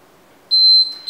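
Workout interval timer during an at-home cardio HIIT session gives a loud, steady high electronic beep lasting about a third of a second, followed by a short second beep, over quiet room tone.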